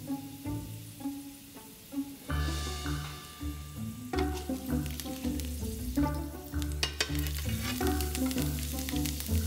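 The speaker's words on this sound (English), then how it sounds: "Heat 1/4 cup of olive oil over a medium-high heat. Add some sprigs of fresh rosemary to infuse their flavor into the oil for a minute or two." Sprigs of fresh rosemary sizzle in a quarter cup of hot olive oil over medium-high heat. The crackle is steady and close, with short stirring clatters and a tune running beneath it.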